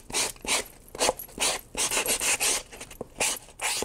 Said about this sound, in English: I'm going to file down those edges.